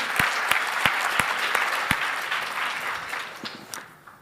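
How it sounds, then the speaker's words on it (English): An audience at a network marketing business talk applauds steadily, with dense clapping that holds and then thins out over a few seconds, mixed with a few sharp individual claps. "Let's give her another round of applause."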